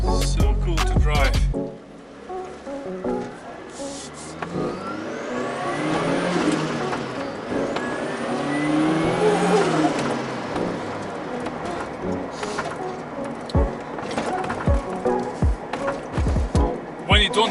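A Mazda MX-5 Miata fitted with a new engine and turbo drives along, its engine rising and falling as it accelerates and revs, with a few sharp clunks and birds cooing in the background.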